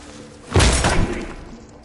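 A SWAT team breaches a door in the tactical shooter Ready Or Not with one heavy, booming thud that crashes in and then rings out over about a second.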